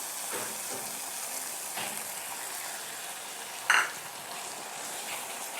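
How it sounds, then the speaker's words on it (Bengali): Spice paste with ground cashew fries in oil with a soft, continuous sizzle, broken by a short scrape of stirring partway through. "এখন আরেকটু ভেজে নেব মশলাগুলোর সঙ্গে।"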